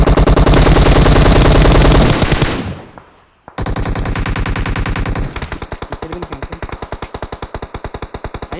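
Gunfire in the PUBG Mobile video game: loud sustained automatic bursts, a brief drop to near silence, then more rapid fire that settles into a regular, slightly spaced rhythm of shots.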